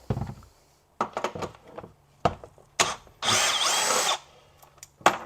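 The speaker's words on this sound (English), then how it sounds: "All I'm doing is just removing, and I have one more to go." A power drill spins out 10 millimeter bolts inside the front trunk of a Ford Mustang Mach-E, sounding in several short whirring bursts close by, with a longer sustained run near the end.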